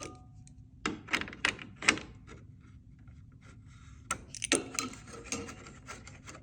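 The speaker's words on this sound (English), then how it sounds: "Next, you want to undo this bolt, which I'm going to do right now" Sharp bursts of ratchet clicks as a bolt on a 2012 Toyota 4Runner grille is loosened, close up and alone, with short pauses between clusters of quick clicking.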